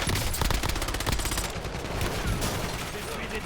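Rapid automatic gunfire rattles continuously from a video game, loud and dense, with crackling bursts throughout.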